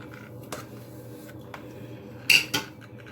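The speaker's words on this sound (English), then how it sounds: "Oh, my grease lid fell." A grease container lid drops and clatters, with a couple of light taps early on, then two quick, louder bright clanks near the end in a quiet room.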